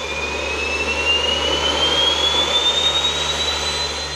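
A jet pack's jet engine runs loud and close, burning jet fuel in a steady, dense roar with a high whine that slowly climbs in pitch.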